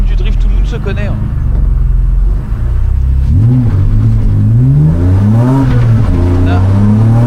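Nissan 350Z V6 engine roaring loudly while drifting at a Viking Cup drift event, with rising and falling revs that sweep up and down over a steady rumble, close and continuous, with voices talking over it.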